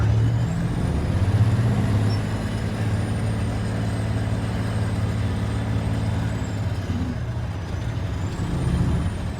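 A heavy grain truck hauling about 80,000 pounds roars with a deep, steady engine rumble that stays loud and close the whole time, with no talking.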